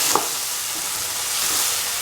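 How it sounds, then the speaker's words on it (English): Tomatoes and potatoes sautéing in a pan with other ingredients, a brief, close, steady sizzle with a faint scrape of stirring. "Keep on sauteing for 1 to 2 minutes."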